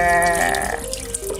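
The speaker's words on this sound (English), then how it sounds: "When you pour in the water" Water pours into a bowl of flour for tortilla dough with a brief rising gurgle, pitch climbing as it fills, close up.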